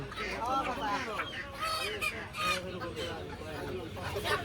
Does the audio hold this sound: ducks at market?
yes